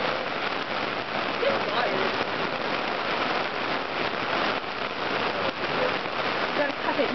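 Steady rain falls at a lakeside campsite at Lake Simtustus, a continuous even hiss of drops on surfaces, with a voice speaking briefly over it.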